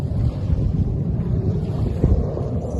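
Strong wind buffets the microphone over a low, rolling rumble of sea waves, loud and continuous throughout.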